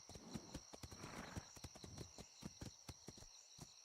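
Horse hooves clip-clop steadily in the survival video game Atlas, a rhythmic series of sharp hoofbeats, fairly close and moderately loud, with no talking.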